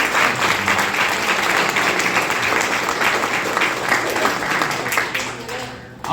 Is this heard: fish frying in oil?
no